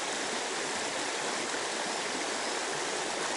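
Water flowing in a stream through a snowy forest, a steady, dense rushing wash heard close and continuous with no talking.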